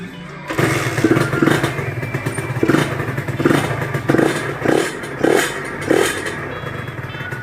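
A Honda LS125 motorcycle engine catches and idles, with a steady low rumble and rhythmic throttle blips recurring roughly every half second to second, close by.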